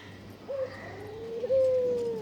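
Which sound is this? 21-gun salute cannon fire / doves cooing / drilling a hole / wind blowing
doves cooing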